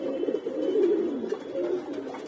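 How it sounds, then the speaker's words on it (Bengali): Pigeons coo close by in a soft, continuous, throaty murmur of overlapping calls, with no voices over them. "যে কিছু কবুতর এখানে এসে পড়ছে"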